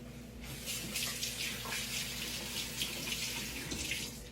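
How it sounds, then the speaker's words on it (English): Water runs steadily from a kitchen tap as hands are rinsed under it, a continuous close splashing hiss that holds for several seconds with no talk. "Let me rinse my hands off."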